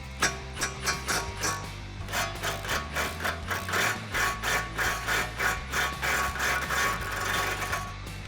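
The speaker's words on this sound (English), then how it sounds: "now we're gonna be removing our upper control arm to the spindle using a 15 millimeter wrench on this side and a deep 18 on this side" Ratcheting wrenches, a 15 mm and a deep 18 mm socket, loosening the upper control arm bolt on a 2015-2019 Ford Mustang GT350 spindle, a steady series of close rhythmic ratchet clicks, no talking.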